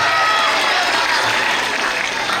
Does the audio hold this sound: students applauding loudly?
yes